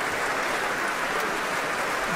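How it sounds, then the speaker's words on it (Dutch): A concert hall audience gives a standing ovation to violinist Lisa Batiashvili after the Beethoven Violin Concerto with the Royal Concertgebouw Orchestra, a dense, steady wash of many hands clapping, sustained and loud like heavy rain. "Een staande ovatie voor Lisa Batiashvili."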